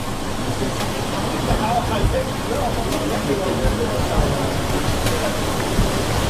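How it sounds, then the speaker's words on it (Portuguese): A wave machine in a ship test tank churns out simulated violent storm waves, a steady dense wash of surging water at an even loudness throughout. "eles ajustam a máquina para imitar o tipo de ondas produzidas durante uma tempestade violenta"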